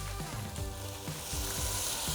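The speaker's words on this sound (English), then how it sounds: "Put in my tomato sauce." Tomato sauce poured into a hot pan of salmon sauce, sizzling and frying steadily with a few soft stirring clatters, the hiss growing brighter toward the end.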